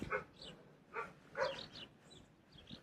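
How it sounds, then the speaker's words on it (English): A dog barks somewhere in the Greek countryside, several sharp yelps in an uneven rhythm, moderately distant and fairly faint, with no talk over them. "Oh no, hold on, is that dog?"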